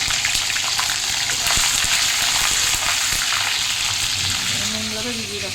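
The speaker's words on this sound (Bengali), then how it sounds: "তাই পনিরগুলো ভেজে নিয়ে নুন জলে ভিজিয়ে দিচ্ছি।" Loud, continuous sizzling of paneer cubes frying in oil fills the pan, with a voice briefly audible near the end.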